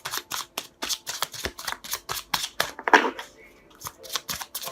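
Tarot cards being shuffled by hand in a run of quick, crisp riffling bursts with short gaps, close and fairly loud, with no talking over them.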